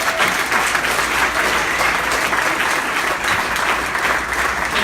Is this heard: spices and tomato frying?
no